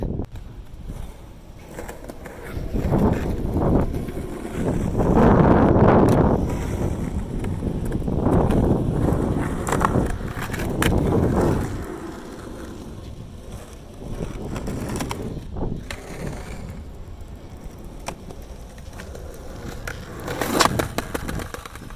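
Skateboard wheels roll steadily around an outdoor skate park, a continuous rumbling glide with swells and occasional knocks, mixed with gusts of wind on the microphone.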